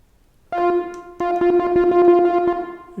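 Default patch of a Schwung synth running on an Ableton Move, a bright plucky tone repeating steady notes that ring over one another in an even pulse, moderately loud and alone.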